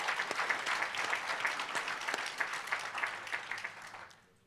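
Applause from the audience at an airport business diversity conference meeting, honoring board members: a broad wash of clapping that holds fairly steady, then fades out in the last half second.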